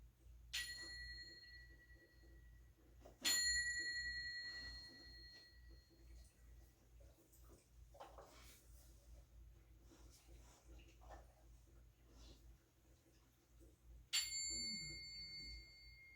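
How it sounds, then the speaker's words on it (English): Three clear, ringing bell strikes open a yoga class, each bright tone sounding and slowly fading, spaced several seconds apart in a quiet room with faint breathing between. "I'm just going to play some bells for you while you get settled in."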